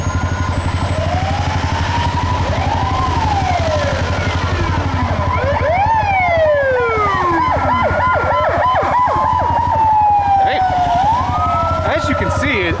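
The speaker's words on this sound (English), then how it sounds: "There's ambulances everywhere." Several ambulance sirens wail and overlap along a Saigon street during a lockdown, their rising and falling tones sweeping loudly over steady traffic noise.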